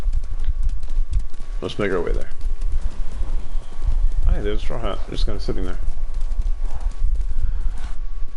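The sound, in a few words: horse hooves galloping in Ghost of Tsushima video game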